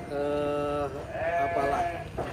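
Garut sheep in a large pen in Cisurupan, Garut, West Java, bleating in a couple of loud, wavering cries close by, one long call followed by shorter quavering ones over low barn background noise.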